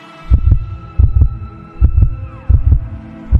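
A loud, close heartbeat thuds in steady double beats, lub-dub pairs repeating about every three-quarters of a second over a low hum, used as a tense horror-story effect.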